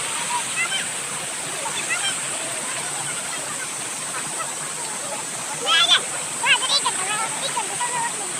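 A hillside stream below a landslide area in Nepal, flowing in a steady broad rush, with faint voices and brief sounds rising over it near the end.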